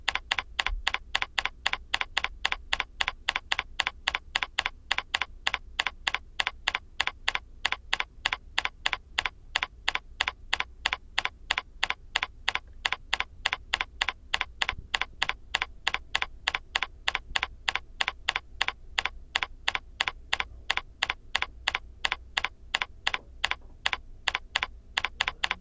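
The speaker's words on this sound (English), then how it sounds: "we need to type them in." A computer keyboard is typed on in an extremely regular, rapid rhythm of crisp key clicks that continues evenly for the whole stretch at moderate loudness, with no talk.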